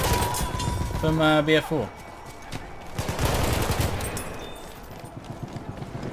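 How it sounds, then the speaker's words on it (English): Assault rifle gunfire in Battlefield 1, heard as bursts of rapid shots with someone talking over them and a short tonal game sound near the start. "It's like an assault rifle from Battlefield 4 now, with 60 bullets."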